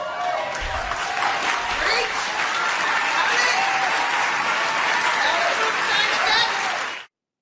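An awards-show audience applauds and cheers loudly and steadily, a dense wash of clapping that carries on for about seven seconds before cutting off abruptly.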